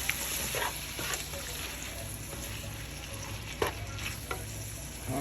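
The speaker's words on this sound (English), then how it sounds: "Let's give this a quick stir here." Cabbage cooking in a pot for a soul food dish is stirred, with utensil scrapes and knocks over a constant sizzle and bubbling, close-up and without speech.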